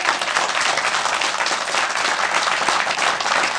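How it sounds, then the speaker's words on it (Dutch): An audience claps steadily for a band in a studio setting, a dense, close wash of applause holding at an even level for a few seconds without talk. "jou zo nog een applaus"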